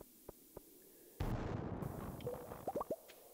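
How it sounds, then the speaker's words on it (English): Bombs exploding in the Skull Cavern mine of the farming video game Stardew Valley: a few faint ticks, then a sudden booming blast that rumbles on, followed by quick popping and plinking sounds as rocks break. "let's throw a couple of bombs down here."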